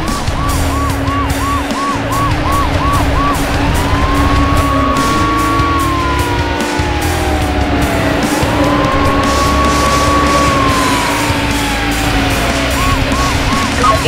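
Black Lamborghini Diablo in Need for Speed Hot Pursuit 2 roars along steadily during a police pursuit, the engine drone continuous and loud while wailing and yelping sirens rise and fall over it throughout.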